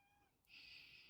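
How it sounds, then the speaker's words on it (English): A female cat meows in complaint, a single drawn-out, rising cry up close indoors, cut off abruptly by a loud thump at the end. "Please excuse the cat. She's complaining because it's raining outside and she doesn't like it."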